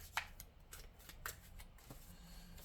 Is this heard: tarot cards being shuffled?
yes